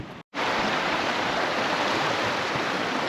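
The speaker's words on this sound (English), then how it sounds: "We got the big creek to cross." Water of a large creek in Montana backcountry rushes and splashes steadily at close range, a dense continuous broadband hiss that cuts in after a brief silent gap at the start.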